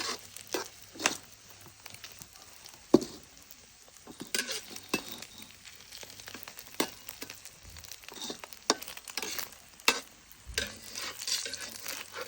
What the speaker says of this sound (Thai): ทอดไข่ก่อน ค่อยไปไปทอดหมู ไข่เจียวเตาถ่านนะครับ